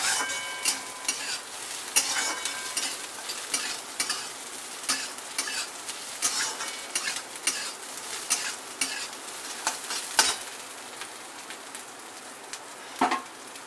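Green chilies frying in a pan for a Maharashtrian samosa filling crackle and sizzle continuously, with sharp pops and stirring scrapes close up throughout, no speech.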